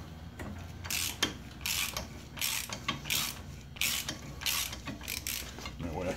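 A ratchet wrench works on tight brake caliper pins of a Kawasaki Prairie 360 ATV, giving close, repeated clicking bursts between pauses with faint metallic creaks.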